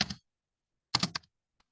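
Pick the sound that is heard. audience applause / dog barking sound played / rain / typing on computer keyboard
typing on computer keyboard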